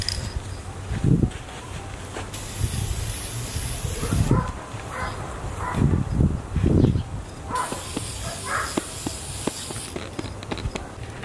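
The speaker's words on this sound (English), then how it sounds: "spray it down with some polyurethane" Two long hissing bursts of Minwax polyurethane clear coat sprayed from an aerosol can onto a ceramic towel container outdoors, interrupted by shuffling, footsteps and a few brief bumps.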